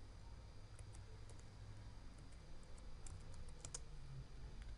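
Quiet, scattered keystrokes as code is typed on a computer keyboard, faint clicks over a steady low background hum.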